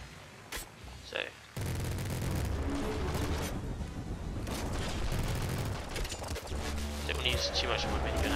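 Rapid minigun fire from the top-down shooter Nuclear Throne, a dense continuous burst of gunfire with booms, running loud and close for most of the stretch after a short quieter opening.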